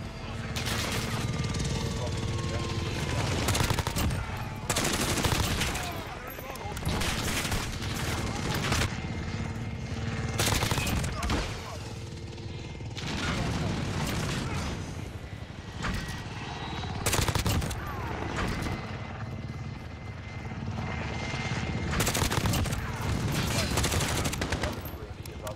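A support helicopter in a Call of Duty game roars steadily overhead while bursts of gunfire and rapid automatic fusillades crackle throughout, dense and loud, with a voice talking at times.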